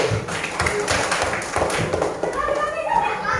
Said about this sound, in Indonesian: tepuk tangan untuk Abdi